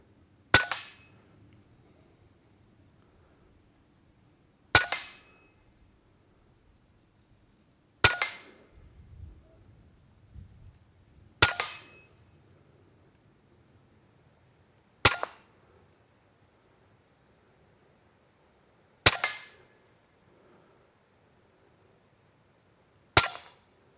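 Huben GK1 air gun firing seven sharp shots at uneven intervals a few seconds apart, each a crisp, close crack with a metallic ring, standing alone over faint background noise.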